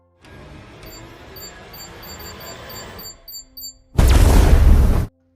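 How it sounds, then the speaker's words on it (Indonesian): A loud, sudden explosive blast from the film Hitman: Agent 47 bursts out after a stretch of low rumbling ambience, booming for about a second before cutting off. "Setelah terjadi ledakan yang cukup besar"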